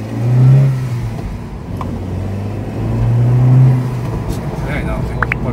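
A Honda CR-Z Mugen RZ accelerates from inside the cabin, its engine rising and falling in two swelling pulls through the gears, loud and close, while people in the car talk over it.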